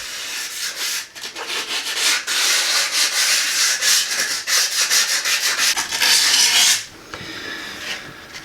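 Old silicone sealant being scraped and rubbed off a bathroom surface during a refresh, making a loud, close, continuous rasping scrape in repeated strokes that stops abruptly near the end.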